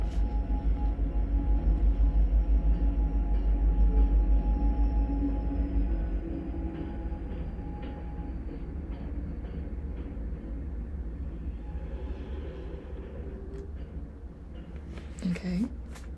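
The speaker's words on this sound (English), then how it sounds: "I'm gonna pause because of the train." A train passes nearby, a low steady rumble that swells and then slowly fades over several seconds. A faint high tone runs above it, and a few clicks come near the end.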